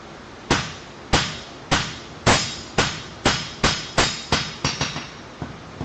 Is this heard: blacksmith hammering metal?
yes